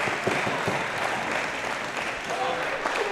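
Crowd applause at a handball quarter-final of the world championships (small ball), a steady dense clapping held at even loudness from start to finish.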